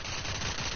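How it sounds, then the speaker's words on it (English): A short, rapid burst of gunfire from a first-person shooter video game, with several quick, sharp shots in tight succession, loud and close with no voice over it. "The headshot sound is so satisfying."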